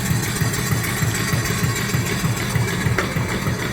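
An antique steam engine and boiler with a big firebox runs steadily, exhausting up the stack in a rapid, regular low chuffing pulse that stays close and continuous throughout.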